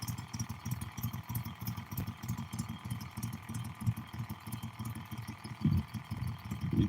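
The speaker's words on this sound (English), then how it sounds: "You just heard a boat go by." A steady low engine drone rumbles throughout, a motorboat passing at moderate distance on Dead Lake, Wewahitchka, with no voices over it.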